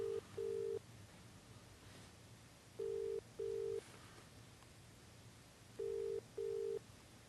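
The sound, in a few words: telephone call being dialled to New Zealand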